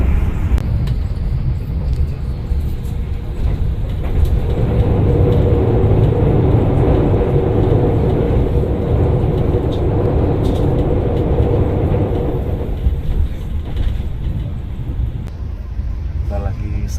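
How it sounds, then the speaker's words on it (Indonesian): A Progo passenger train passes alongside a moving Taksaka executive-class train bound for Yogyakarta, a loud sustained rumble and rush that swells in the middle and then eases, heard from inside the carriage. "Kita bertemu kereta Progo."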